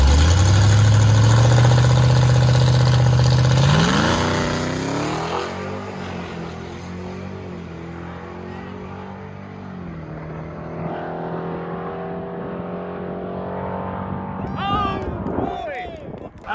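A loud car with an LT4 supercharger roars past close by, a heavy engine note that swells then drops in pitch as it recedes into a steady rumble, with people talking over it.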